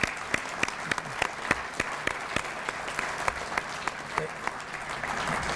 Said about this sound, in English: I just wanted to give them a round of applause for having us all here tonight